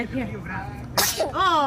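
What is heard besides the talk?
sneeze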